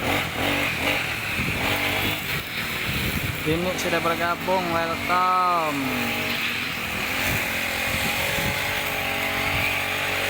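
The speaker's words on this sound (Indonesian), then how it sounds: "Tutorial potong rumput pakai mesin." A motorized grass-cutting machine runs steadily as a loud, continuous engine drone that stays even across the whole stretch, with a voice talking over it for much of the time.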